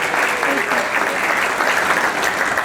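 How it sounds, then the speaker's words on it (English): Sustained applause from a large crowd at an awards ceremony in Independence, Ohio, a thick wash of clapping at constant loudness with a few voices underneath. "Let's give them a round of applause."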